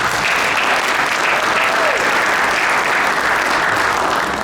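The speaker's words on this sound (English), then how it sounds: "So please give them a nice round of applause." Steady, full applause from an audience at a town inauguration ceremony honouring elected officials, a continuous dense clapping that holds evenly throughout.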